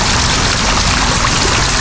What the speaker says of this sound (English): Got kind of a running water, almost like a creek sound